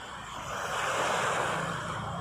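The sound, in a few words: flooded river waves under a bridge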